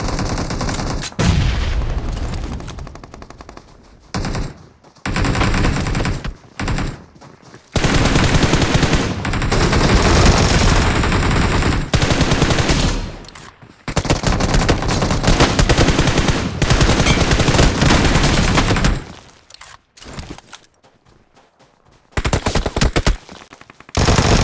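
Loud, sustained bursts of automatic gunfire from M4 and Vector rifles in the mobile shooter BGMI, long rattling volleys broken by brief pauses, with no talking.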